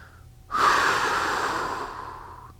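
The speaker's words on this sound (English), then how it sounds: "deep breath" A single long, deep breath, drawn in and pushed out during a knee-rehab exercise; close and steady for about two seconds, with no talk over it.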